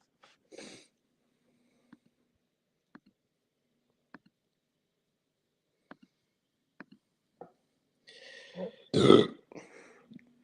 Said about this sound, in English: I know you like to burp.